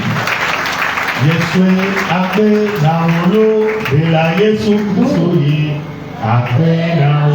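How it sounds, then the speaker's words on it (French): A Pentecostal church congregation claps and loudly acclaims God, with many voices shouting and chanting in rising and falling phrases over continuous applause, close and energetic throughout. "Et toi tu vas acclamer Dieu pour leur vie."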